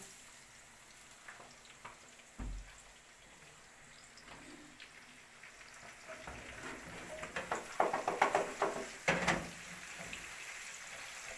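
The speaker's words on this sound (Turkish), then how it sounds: "Arkadaşlar hamsilerimiz kızardı şu anda." Anchovies frying in a pan in a home kitchen, a soft steady sizzle with crackling spits that grow busier and louder toward the end, with a sharp clunk early on and no talking.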